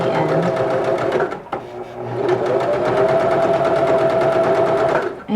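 A sewing machine stitches along the edge of a fabric scarf in steady, close, continuous runs, pausing briefly before starting up again.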